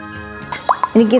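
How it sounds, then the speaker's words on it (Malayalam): Two whole eggs drop into a bowl of milk and yeast mixture for brioche dough, landing as a couple of quick, close wet plops while a voice speaks over them. "ഇനി ഇതിലേക്ക് നമ്മൾ 2 മുഴുവൻ മുട്ട എടുത്ത് വെച്ചിട്ടുണ്ട്, ഇതും ചേർക്കാം."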